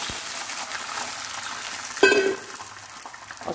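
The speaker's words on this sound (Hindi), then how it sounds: "मटर डालें और इसमें थोड़ा पानी डाल दें" Green peas and water hit a hot frying pan, turning a steady background sizzle into a sudden loud hiss and bubbling burst that gradually calms back to frying.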